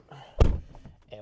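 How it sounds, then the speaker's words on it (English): Car door on a 2024 Ford Mustang GT slamming shut once, a single loud close thunk up front, with faint rustling before and after. "We'll hop in here, close this door,"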